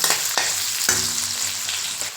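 Shallots frying in a pan as the base of a fish curry, a steady crackling sizzle with a few sharp spoon scrapes, close up and no speech.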